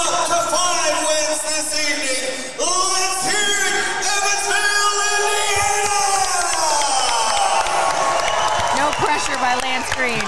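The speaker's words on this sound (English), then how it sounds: "Lance, he's got this crowd fired up." Boxing crowd roaring and cheering during the fifth and final round of a KOK4 bout between Luis Pena and Kurvon, a loud sustained wall of shouts and whoops with a brief dip midway before surging again.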